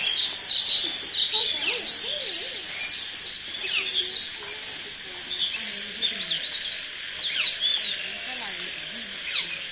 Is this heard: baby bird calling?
yes